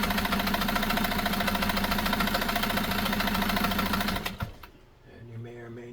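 A Nesco de Luxe push-button zigzag sewing machine runs a scallop stitch with a loud, fast, steady mechanical chatter close by for about four seconds, then stops abruptly and leaves quiet room tone.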